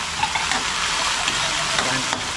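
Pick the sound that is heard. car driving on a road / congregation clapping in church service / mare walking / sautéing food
sautéing food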